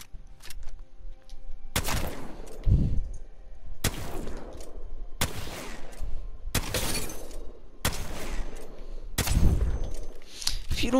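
Mastiff shotgun from Apex Legends firing about six heavy, booming blasts at roughly one-to-two-second intervals, each a loud broadband crack with a low thump, with faint game background between shots.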